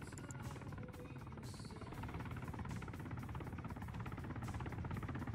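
An Mi-28 attack helicopter in the video game Arma 3 drones with a continuous, rapid rotor chop and low engine rumble, steady and fairly distant, with no one talking.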